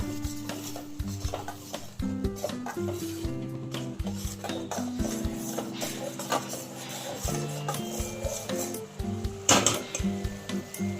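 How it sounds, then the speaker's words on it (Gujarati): A spoon stirs dhokli shaak in a metal pot after turmeric, coriander-cumin powder, chili and salt go in, giving repeated close scrapes and clinks against the pot over a soft steady musical background, with no talking. "હવે આપણે એને હલાવી લઈશું."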